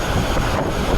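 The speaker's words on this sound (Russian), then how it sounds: "Ветер пипец." Strong, cold wind at a truck stop in the US buffets the microphone with a loud, rough, continuous roar for about a second.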